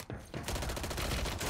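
Rapid automatic gunfire in the video game Call of Duty Warzone, a dense, loud, continuous burst lasting over a second with no talk.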